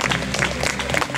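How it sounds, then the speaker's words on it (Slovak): Spectators applauding at an outdoor show jumping competition in Trenčianske Teplice, a brief dense burst of many hands clapping at moderate distance. "Naozaj zaslúžený potlesk"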